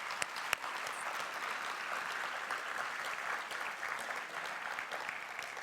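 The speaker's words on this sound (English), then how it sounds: "Would you give our panel just another round of applause?" Audience applause for a panel at a health innovation center ribbon cutting: sustained, even clapping from a room of people, with a few sharper claps standing out early and no talking over it.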